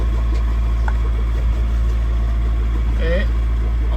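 A sailboat's engine runs after the wind has dropped, a steady low drone and hum that holds constant at close range, with a faint voice briefly audible over it.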